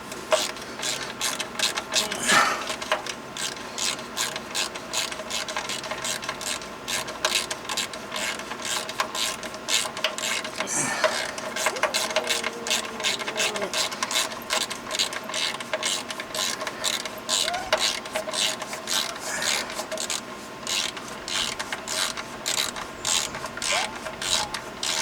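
A hand ratchet wrench is worked steadily on a car engine-to-transmission job, giving a long run of rapid, close clicking ratchet strokes with brief pauses and some faint background noise.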